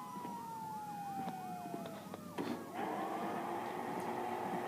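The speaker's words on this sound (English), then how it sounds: "you hear that? Sirens." Police sirens wail steadily at mid distance, rising and falling in a repeating sweep, then shift into a louder, denser siren tone partway through, with no talking over them.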